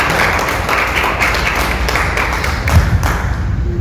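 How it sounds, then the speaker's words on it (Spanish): A church congregation applauds together, a steady dense wash of clapping that stays loud and even for a few seconds. "Un aplauso al Señor."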